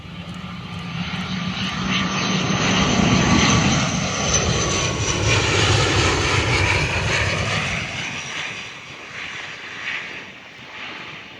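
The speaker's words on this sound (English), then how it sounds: "We have a QantasLink Fokker 100. Let's get the touchdown." A QantasLink Fokker 100 airliner lands at Perth Airport, its jet engines roaring loud and steady as it passes close overhead, then fading slightly as it rolls away down the runway.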